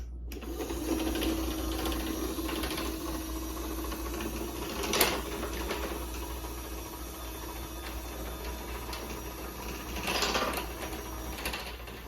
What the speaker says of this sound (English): the motor doesn't sound exactly how it should, but even so, it is still a very quiet machine